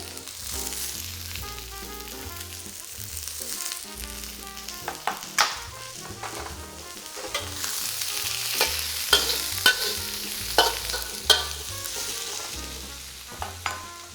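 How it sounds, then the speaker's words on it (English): Chopped onion and celery sizzle in a pan for copycat Panda Express chow mein, a continuous frying hiss under background music, punctuated by repeated sharp utensil clicks and scrapes. "We're gonna go ahead and add our onion. And our celery. We're gonna let those cook for a little bit."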